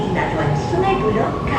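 Subway train running through a city metro system, a steady low rumble with rail tones filling the background while speech-like sounds mix over it.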